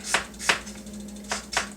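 A kitchen knife chops green onion on a cutting board for miso negi, giving four crisp, close knocks in an uneven rhythm over a low steady hum.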